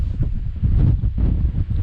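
Strong, constant wind gusts roar across the exposed summit of Caisteal Abhail, buffeting the microphone with a heavy, low rumble that never lets up.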